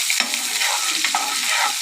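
Onions and curry leaves, added after mustard seeds, fry steadily in hot oil, giving a continuous close sizzle with light stirring scrapes and no voices.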